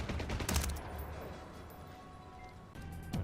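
Bursts of gunfire in the Splinter Cell: Blacklist video game, a few sharp volleys near the start and again at the end over a steady game ambience.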